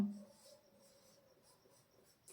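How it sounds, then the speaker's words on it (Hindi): Pen scratching across paper while a fraction maths problem is written out, faint and close, with small intermittent strokes over a quiet background. "अब हम कुछ प्रश्न हल करते हैं जो बहुत ही महत्वपूर्ण है। तो चलो देखो प्रश्न लिखता हूं।"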